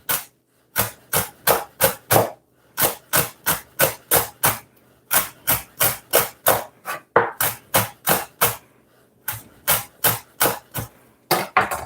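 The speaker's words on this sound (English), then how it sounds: "I'm gonna kind of cut it small rather than put it in the blender." A sharp knife chops fresh thyme on a cutting board in steady bursts of close, crisp taps, a run of rapid strokes with short pauses between groups, loud and alone without talk.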